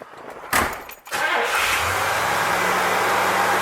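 A freshly rebuilt 1964 Pontiac 389 V8 settles into a steady, loud idle after a sharp transient, running alone close by at an even rumble.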